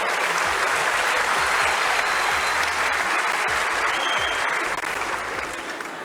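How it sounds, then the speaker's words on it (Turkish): A studio audience at a Turkish talent show breaks into loud, steady applause that holds evenly across the whole stretch, tapering only slightly near the end. "İlk defa bir yarışmacının yaşı alkış alıyor ya."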